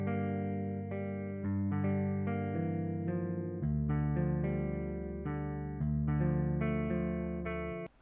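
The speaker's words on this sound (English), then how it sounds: "the fifth sound is the guitar from Ample Guitar Semi Hollow on a default" Ample Guitar Semi Hollow virtual guitar on its default preset plays a clean, sustained melodic line of chords and single notes with a steady bass underneath, continuous and evenly loud with no voices.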